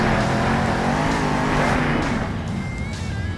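A monster truck in the Monster Jam video game spins donuts, its engine droning loudly and continuously with a rising, revving tone and faint tire-squeal streaks near the end, with no talk over it.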